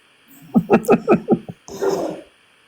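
A playful dog gives a quick run of five short yips or whimpering barks, then a longer breathy growl-like grumble, close and fairly loud, with no speech over it.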